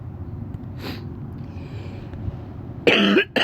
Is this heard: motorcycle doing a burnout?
no